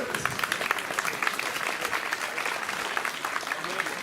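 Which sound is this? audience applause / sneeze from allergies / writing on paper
audience applause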